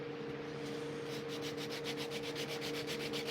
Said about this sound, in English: And so now, I'll step up the sandpaper.